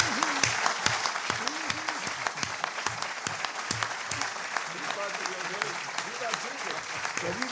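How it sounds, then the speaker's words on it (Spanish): A large audience applauds Antonio Escohotado at a talk on liberalism, a dense, steady wash of clapping that runs the full length, with voices calling out over it. "vamos a darle un gran aplauso a Antonio por habernos visitado."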